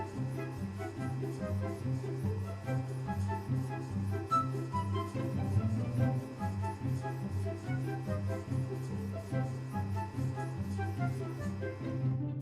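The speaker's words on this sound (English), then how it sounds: "The loud noise you can hear is a single fan inside the industrial power supply that I use to run the printer." A single cooling fan inside an industrial power supply drives a 3D printer, whirring loud and steady, close up, with a constant hum and no voices.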